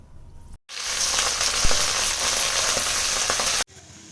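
Green vegetables sizzle and fry steadily in hot mustard oil, a loud continuous crackle filling about three seconds after a brief cut, with a few sharper pops mid-way and no talking.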